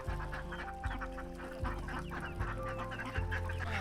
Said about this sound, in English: They're quacking and clucking,